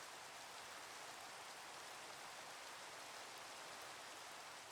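Minecraft rain falls as a steady, soft, even hiss of drops, continuous and faint throughout with no other sounds or voices.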